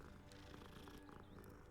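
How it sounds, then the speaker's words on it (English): Cat purring in the Hogwarts Legacy video game, a faint, steady low rumble that carries through the whole moment, with a little game music beneath. "Kitty."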